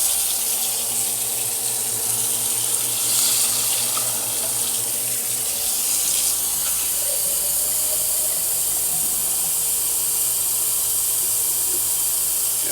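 Water pours steadily from a tap into a cooking pan for crawfish, a continuous close hiss and splash that runs without a break.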